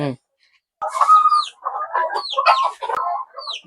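Backyard chickens, including an American breed, clucking and calling in a short run of bursts, fairly close, with some sharper call-like notes mixed in.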